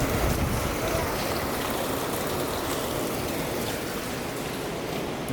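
Heavy rain pours steadily outdoors over garden plants, making a dense, continuous hiss of drops striking surfaces at close range, with no break across the whole stretch.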